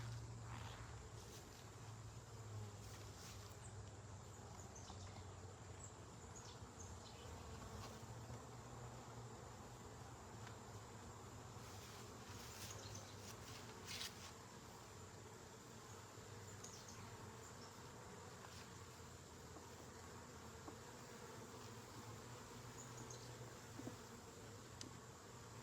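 Honey bees buzz around open beehives during a honey check, a dense, steady drone of many insects close by that persists throughout with small fluctuations.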